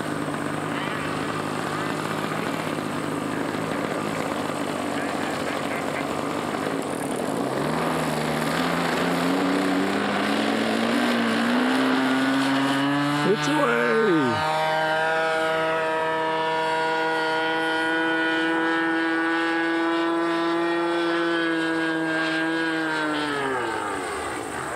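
A radio-controlled model plane takes off with a high, nasal motor whine that climbs in pitch, sweeps close past with a sharp pitch drop, then settles into a steady droning whine as it flies on, with no talk.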